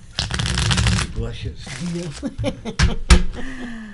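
A deck of playing cards is shuffled by hand at a strip poker game: a brisk, close riffling burst, then scattered taps and handling noises, with people talking throughout.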